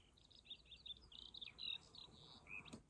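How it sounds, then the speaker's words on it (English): Sweet chirping birdsong from Pink Floyd's Goodbye Blue Sky, a string of bright, high tweets and short trills, soft and slightly distant over a faint hiss, with no voices. "just the inclusion of this sweet chirping bird sets off the stage for this more sunshine"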